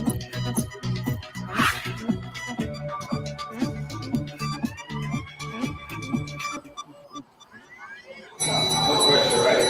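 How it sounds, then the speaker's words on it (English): A bell rings in a robot-run pizza kitchen to signal a new order, sounding amid busy background music and kitchen noise, with a voice speaking. "So when we hear the sound of the bell,"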